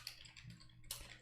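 Rapid keystrokes on a computer keyboard as a command is entered, soft clustered clicks close by under a faint background hum, with a sharper tap near the end.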